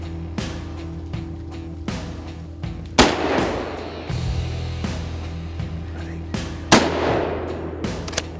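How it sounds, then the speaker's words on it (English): Two sharp, loud rifle shots ring out a few seconds apart during a driven wild boar hunt in the Czech Republic, each followed by a brief echo, with faint outdoor background noise around them. "Two shots, really nice shots."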